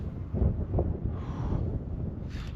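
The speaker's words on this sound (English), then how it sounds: "So you can see it's a bit windy." Gusty wind buffets the microphone at Whitby Abbey, North Yorkshire, with a rough, low rumble that swells and fades for a couple of seconds.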